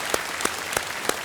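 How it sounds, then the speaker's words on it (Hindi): Studio audience applause on a TV quiz show set, heard as four sharp, evenly spaced bursts of clapping over a dense crowd wash, with no talking. "तालियां बजाएं।"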